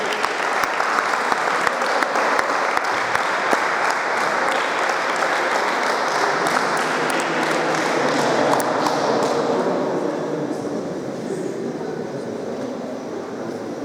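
Many people applaud prize winners at an awards ceremony, a dense, steady clapping that carries on for several seconds before thinning and fading toward the end.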